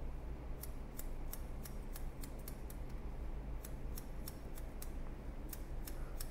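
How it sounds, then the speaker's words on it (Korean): Hook scissors snip hair during a men's see-through dandy cut, a quick, irregular series of crisp metallic clicks over a steady low room hum, close to the listener and with no talking. "훅가위로 이 가이드를 그대로 올리면서 커트"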